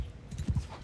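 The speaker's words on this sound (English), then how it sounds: "let's unleash the horse archers" Horse hooves from the video game Mount & Blade II Bannerlord give a few quick, muffled clip-clops in a short irregular burst.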